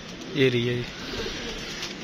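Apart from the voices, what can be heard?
pigeon cooing on a rooftop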